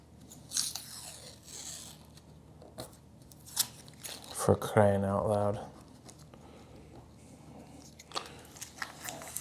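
Masking tape that was wedged down tight being peeled up off a table saw throat insert, giving scattered crackly tearing bursts close by, with a man briefly exclaiming partway through.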